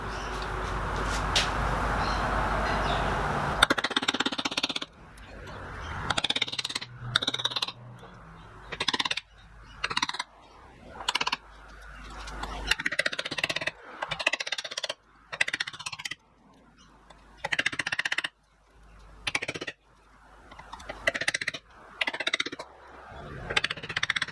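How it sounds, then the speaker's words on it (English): An 8mm shop-made mortising chisel chops a mortise in wood for a rice chest, producing repeated close, sharp knocks and thuds in bursts with short pauses, over a steady background noise and without talking. "this is an 8mm shop-made mortising chisel"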